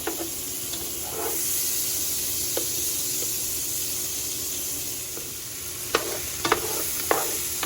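Butter melting in a pan to start a roux for vegan beef stroganoff, a steady soft sizzle and hiss with a few sharp clinks and scrapes toward the end.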